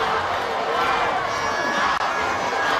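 Stadium crowd at a Pacific rugby match between Fiji and Samoa, a steady dense roar of cheering fans filling the air throughout, with no break in the noise.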